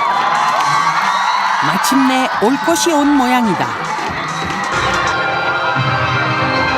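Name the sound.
children cheering enthusiastically as the stage begins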